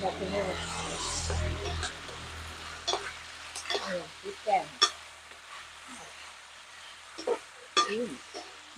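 Stir-frying greens with fermented pork after adding oyster sauce and seasoning sauce, with a sizzling hiss at first, then scraping and clinking stirs in an uneven rhythm, close and moderately quiet, with someone talking through it.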